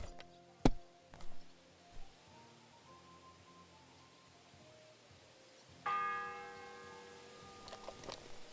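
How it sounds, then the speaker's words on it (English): A church bell tolling in Kingdom Come Deliverance 2, one sharp struck ring early that decays, then a second strong strike later with a long humming resonance over quiet game ambience and faint ticks. "The fourth bell."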